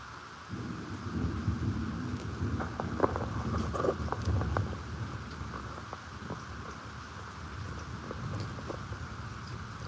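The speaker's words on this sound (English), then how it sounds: "the storm is passing along." Thunderstorm with steady rain pattering on surfaces and low rolling thunder rumbling throughout, a continuous dense wash with scattered sharper drips, moderately loud and close.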